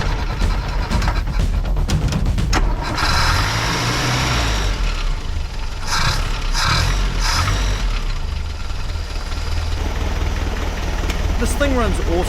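A farm Land Rover's engine runs steadily at idle after a return spring adjustment, a low continuous rumble throughout, with speech over part of it.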